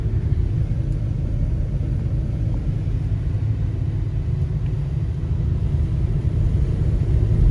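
A long-neglected survivor car accelerates smoothly, a steady, loud low rumble with an even engine drone that holds without stumbles or breaks.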